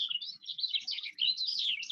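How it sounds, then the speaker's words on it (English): Birds chirping in a forest, a continuous busy stream of small high tweets and twitters, fairly faint, with no other sounds or voices. "listening to the birds, and the trees rustling"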